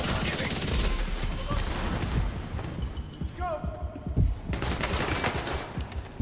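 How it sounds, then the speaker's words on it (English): Sustained rapid minigun fire in a video game, loud and continuous for several seconds with dense crackling bursts, briefly dropping off mid-way before resuming alongside game sounds and other effects. "a guy running around with a minigun"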